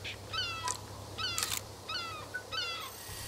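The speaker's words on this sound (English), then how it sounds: "It's a gull. Black-headed gull." A black-headed gull calls in the video game Alba: A Wildlife Adventure, four bursts of sharp, descending squealing cries in a steady rhythm, fairly close over a faint low hum.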